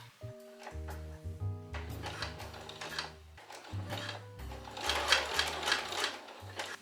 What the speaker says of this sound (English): sew here with a zigzag stitch multiple times back and forth so it's secure